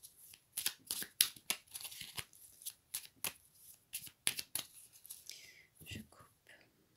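A deck of tarot cards is shuffled by hand in quick riffling bursts of crisp card flutter, close and moderately loud, with brief pauses between shuffles and a faint breathy voice in places.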